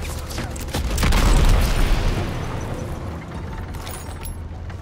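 A deep booming explosion in the video game Call of Duty: WWII, Normandy D-Day mission, swells and rumbles, then decays into a lingering low roar with scattered crackling debris.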